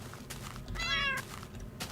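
A cat in the video game Minecraft gives one clear, rising then falling meow, close and distinct over a low background, with a person speaking quietly around it.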